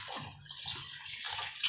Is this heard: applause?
no